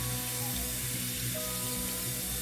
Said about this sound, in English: You just let the water go through the potato, cool down the potato.